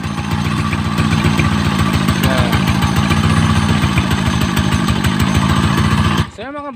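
A loud Motorstar Starx 125 motorcycle engine idles with a harsh, rapid rattling clatter that continues steadily, then cuts off abruptly near the end as a voice briefly speaks.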